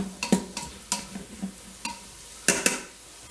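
Beef stew sautéing in a pot, a soft sizzle under a series of sharp scraping and knocking stirs of a spoon against the pot, close by, with no talking.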